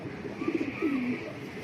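A racer pigeon coos a few low, soft notes, a short burst then a longer drawn-out one, close by over quiet room noise.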